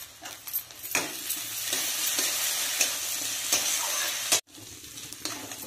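Ginger, garlic and green chilli frying with partly fried potatoes for palaga aloo kasa, a steady close sizzle with stirring scrapes throughout and a brief break near the end.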